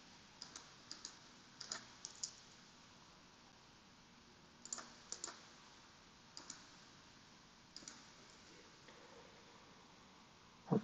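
Faint, scattered clusters of computer keyboard keystrokes during Minecraft play, with irregular pauses between the bursts of clicks.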